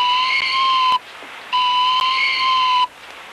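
A hawk-calling whistle blown in two long, steady shrill blasts with a short break between, loud and close with no talk over it.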